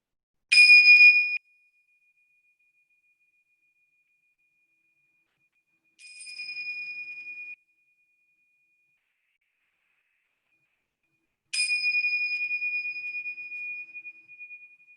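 Meditation bells ring three separate times at the close of a yoga and qi gong practice, each a clear bright chime that lingers and fades into silence, alone with no talking.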